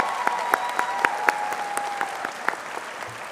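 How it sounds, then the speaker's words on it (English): At the 2025 MSMS commencement, an audience gives student leaders a short round of applause, a steady crowd clapping with a few sharper individual claps standing out. "Please stand to receive a round of applause for a job well done."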